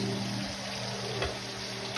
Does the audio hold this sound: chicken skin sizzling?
yes